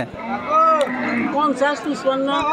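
Cows lowing at a busy rural cattle market, with several drawn-out moos at close range repeating across the clip, plus faint crowd noise behind them.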